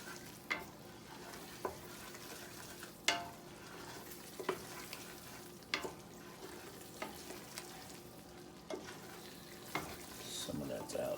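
Chicken and sausage gumbo stirred in a pot, a steady soft scraping with a low simmering bubble underneath, broken by repeated sharp clicks and knocks of the spoon against the pot.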